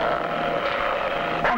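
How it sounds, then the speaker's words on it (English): A dog barks and yips close by in a quick, steady burst, fairly loud, with a brief sharper cry near the end. "I can't hear you for all the barking."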